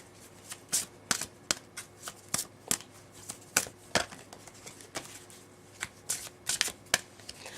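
A deck of tarot cards being shuffled by hand, crisp riffling bursts and flicks repeating irregularly, close and clear with no voices.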